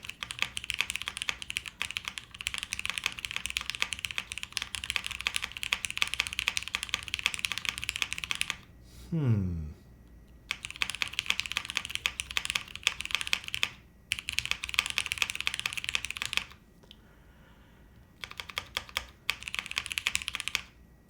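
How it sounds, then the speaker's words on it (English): Rapid clacky typing on an Alexa mechanical keyboard, with thocky spacebar presses mixed in and short pauses between bursts of keystrokes. "This is actually kind of an interesting spacebar sound."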